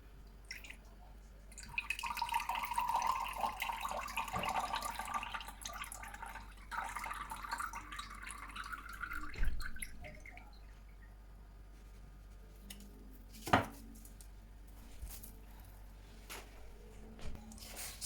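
Water draining out of a fresh coconut, a soft trickling pour close by that fades into scattered faint drips and small knocks.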